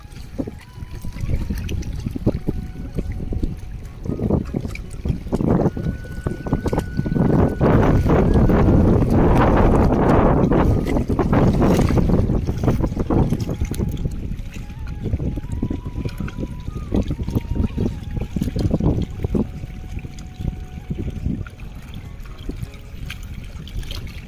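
Water rushes and gurgles steadily over rocks, loud and close, with a voice talking intermittently over the flow.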